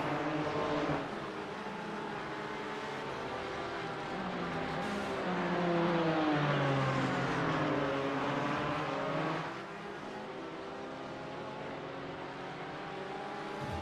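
Race cars lap Watkins Glen in iRacing, with a BMW among them, their engines droning and shifting pitch continuously as they race, sustained and fairly close with rising and falling tones.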